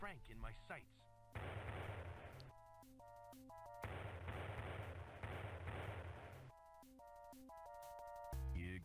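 A Dino Ray Gun fires in Flight of the Amazon Queen, giving several loud, sustained crackling blasts, each lasting about a second, set between beeping electronic game music tones.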